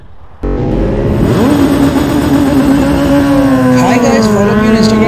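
Ducati motorcycle engine starting a ride, a sudden loud onset settling into a steady, powerful drone with rising pitch, close and continuous.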